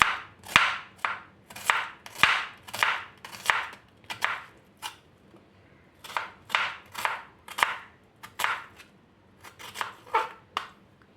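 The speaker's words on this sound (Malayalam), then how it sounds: "നീളത്തിലാണ് നമുക്ക് സവാള അരിഞ്ഞെടുക്കേണ്ടത്" A knife slices medium-sized onions lengthwise on a cutting board, giving a steady run of crisp, evenly spaced cuts with a brief pause midway, close and clear with no talking.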